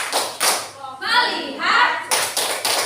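A classroom of pupils performs a rhythmic tepuk fokus clapping routine, bursts of group claps in a patterned beat broken by a short stretch of children chanting together, then clapping resumes.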